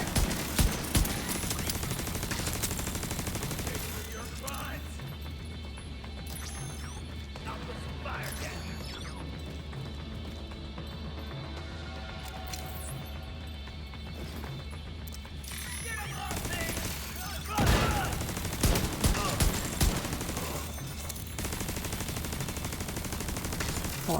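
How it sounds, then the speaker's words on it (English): Gunfire striking an ammo box in The Division 2, sharp shots and mechanical clatter over a busy game background, with a louder cluster of impacts toward the end. "I love shooting the ammo box."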